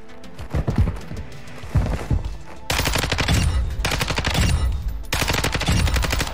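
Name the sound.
Lachman 556 assault rifle firing, from a video game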